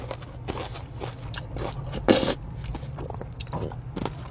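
A crunchy bite into a Dubai chocolate ice cream taco, one sharp close crackle standing out amid soft chewing and faint scraping sounds, with no talk.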